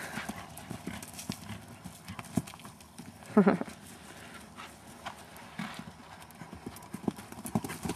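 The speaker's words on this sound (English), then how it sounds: "Nice canter." Hoofbeats of a horse cantering in a riding lesson, a soft rhythmic clip-clop heard at moderate distance. One louder thud-like beat sounds partway through, and faint voices carry in the background.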